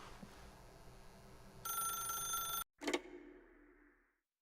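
An electronic phone rings inside the video game The Stanley Parable, a brief ringing burst after faint background sound, then a clunk like the receiver being picked up before quiet.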